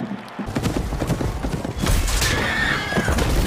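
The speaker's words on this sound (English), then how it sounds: "The horse is okay." Horse in a medieval fantasy drama scene whinnying loudly with clip-clop hooves and a busy background din, the neigh rising clearly near the end.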